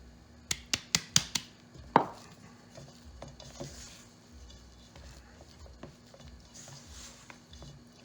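Spinach and ricotta gnocchi dough is mixed on a board: a quick run of sharp taps at the start, then softer scraping and patting sounds in a quiet kitchen.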